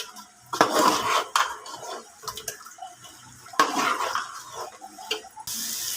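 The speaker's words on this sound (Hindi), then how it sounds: "आलू ऐड करने के बाद हम इसकी अच्छी तरीके से भुनाई करेंगे" Potatoes being stirred and fried in spiced oil in a pan for a potato and egg curry, with a utensil clattering and scraping against the metal in irregular bursts separated by short pauses.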